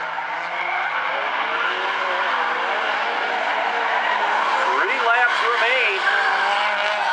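Stinger 8 race cars in an A-Main at South Sound Speedway snake single file through a right-hander, a steady dense engine drone with tire squeal rising near the end, all under continuous commentary.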